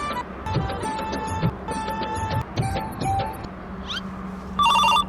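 A phone rings during a call: a short, loud electronic ring burst arrives near the end over steady background tones and clatter.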